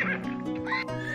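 Horses neigh in the Settlement Survival village-building game, a whinnying call over steady layered game music and ambience, loud and continuous through the short stretch.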